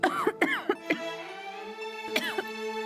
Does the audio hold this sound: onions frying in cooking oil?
no